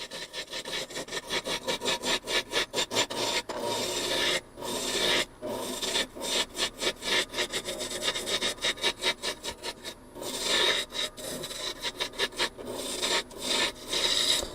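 A wooden pie server blank spins on a lathe as the tool removes wood, giving close, rhythmic rasping bursts of cutting with short gaps as the tool rides on and off the surface.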